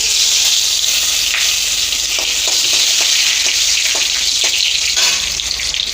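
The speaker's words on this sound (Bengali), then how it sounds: "তেলের মধ্যে দেবো এই যে শুকনো লঙ্কা আর তেজপাতা" Dry red chillies and bay leaves sizzle in hot oil in a kadai, a loud, constant crackling fry with a few sharp pops and light stirring, no talking.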